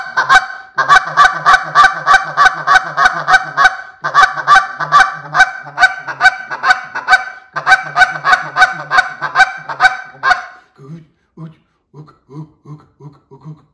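Someone blows a handheld goose call, a voice imitating geese with loud, rapid honks and clucks in quick rhythmic bursts, three long runs separated by brief pauses, then a few softer notes trailing off.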